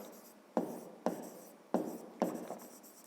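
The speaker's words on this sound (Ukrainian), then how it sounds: "Пишемо сторони трикутника." Pen or chalk writes the sides of a triangle in four short scratchy strokes, each starting with a sharp tap, all close and fairly faint with no speech.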